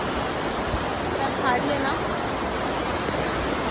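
A waterfall at Dolkhamb dam near Shahapur pours as a dense, steady broadband rush filling the whole clip, while someone speaks briefly over it.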